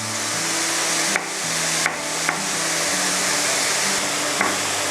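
Mushroom miang filling stir-fried over high heat, a continuous strong sizzle and hiss with a low hum beneath and a few sharp spatula knocks against the pan.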